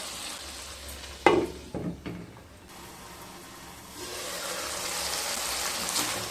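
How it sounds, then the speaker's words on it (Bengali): Spices and tomato frying in oil for a tilapia curry, opening with a few stirring knocks and scrapes before a steady sizzle builds and holds. "মিশিয়ে নিয়ে মশলাগুলোকে ভালোভাবে কষিয়ে নিয়ে তারপর ফিরে আসছি।"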